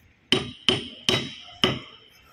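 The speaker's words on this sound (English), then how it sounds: "by using hammer" A hammer strikes a special tool to drive out a part, four sharp metallic blows with a ringing tone, evenly spaced and close.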